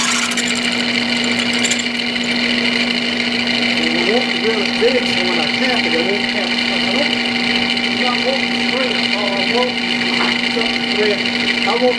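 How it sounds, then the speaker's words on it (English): A drill bores into a screen in a workshop with a loud, steady motor whine and hum held throughout, with a voice faintly underneath. "Now, I want to drill this screen so I can have it."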